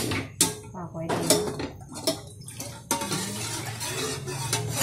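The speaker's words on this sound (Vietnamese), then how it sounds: "Mình dùng 2 tay mình quậy 1 lần, không cho rau câu mình nó đóng ở dưới nha các bạn." Spoons stirring agar jelly in two pots at once, scraping and clinking against the metal in irregular strokes, fairly close, with some quieter stretches between louder scrapes.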